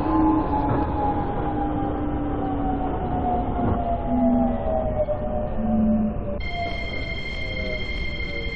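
Seoul Metro Line 1 train running, a loud continuous rumble of wheels and motors with a slowly sliding whine, then a steady high electronic tone near the end as the car rolls on.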